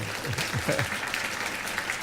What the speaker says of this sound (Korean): 우리 한번 박수를 한 번만 예